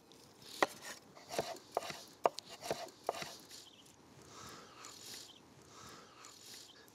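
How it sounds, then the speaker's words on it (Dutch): A knife taps sharply on a cutting board in quick, uneven chops, dicing vegetables into brunoise for a salsa, then the cutting softens into fainter scraping and rustling. "En dan gaan we die ook in brunoise snijden"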